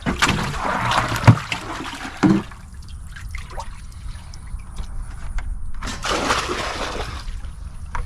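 Water being pumped out, a trickling, gurgling flow with a few brief mechanical bumps and surges, heard up close and alone.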